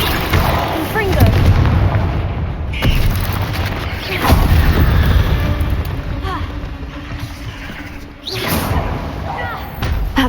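A Confringo fire-blast spell from the Hogwarts Legacy video game goes off in a string of loud booming explosive bursts, several heavy blasts in about ten seconds over continuous battle noise, with game voices talking in between.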